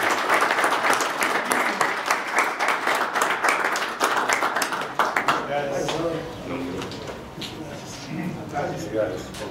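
Audience applause at an award ceremony in Mora, Jalisco, a dense wash of clapping that fills the first half and then fades into scattered claps beneath murmuring crowd voices.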